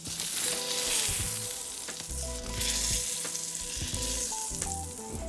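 Salmon fillets sizzle steadily in a hot pan while being basted with butter, a dense continuous crackle close up with clinking utensils and stirring sounds, no talking.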